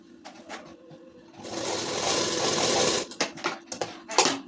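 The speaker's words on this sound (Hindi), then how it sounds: "ऐसे सिलाई चलाएंगे। इस पल्ले पे चलाएंगे फिर इधर को आएंगे" A sewing machine stitching the side panel of a ladies suit runs in a steady close whir for about a second and a half, then stops and starts in short bursts, with no voices.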